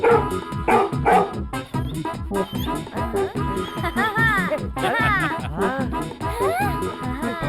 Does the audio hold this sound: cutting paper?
no